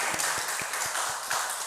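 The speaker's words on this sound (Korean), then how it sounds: "우리 나야기 유스케 한번 침례받으실 분 한번 소개할 테니까 일어나서 인사하고 우리 함께 박수로 환영하면 좋겠습니다" A congregation at a church Bible study gathering applauds to welcome a person about to be baptized, a steady wash of clapping hands with a few distinct nearby claps.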